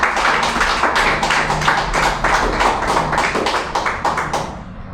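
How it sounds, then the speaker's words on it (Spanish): A church congregation claps steadily and loudly, many hands at once in a dense, continuous applause that tapers slightly toward the end. "Denle un buen aplauso al Señor."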